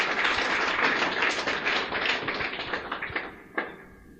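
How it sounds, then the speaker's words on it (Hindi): An audience at a talk applauds with a dense burst of clapping that gradually thins into scattered claps near the end. "तालियां बजा दें इनके लिए एक बार।"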